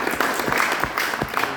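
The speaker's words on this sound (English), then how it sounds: "Everyone give Annetta a round of applause." A short, scattered round of applause for a volunteer at a magic show, with a handful of distinct claps standing out from a thin crowd.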